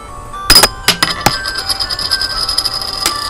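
A coin flipped during a Pokémon card game lands on a table with a few bright metallic clinks and a short ringing rattle, loud and close, settling into a faint shimmer before one last tap.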